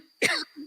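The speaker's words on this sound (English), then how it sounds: "Or I was coughing." One sharp, close cough, a brief harsh burst followed by a faint throaty sound.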